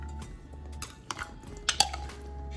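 A spoon mixes tzatziki ingredients with Greek yogurt and oil in a bowl, making a few light scrapes and clinks against the dish over a low background hum.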